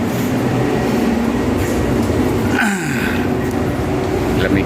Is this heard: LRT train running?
yes